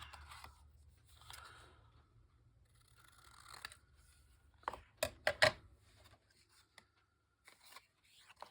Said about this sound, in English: Get my scissors here.